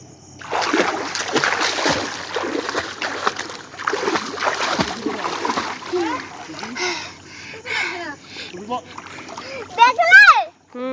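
Children swimming and splashing in water at a resort, with repeated close splashes and bursts of churning water, while children's and adults' voices talk and call out throughout.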